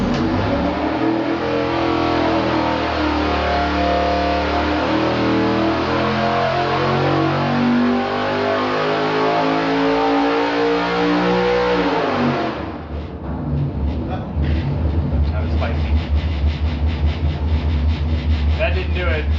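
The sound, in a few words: 4.8L V8 engine revving on dyno pull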